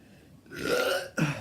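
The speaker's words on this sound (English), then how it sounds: "I got a burp." A man lets out a loud, drawn-out burp lasting most of a second, followed by a short low grunt-like tail, close to the mic with no talking.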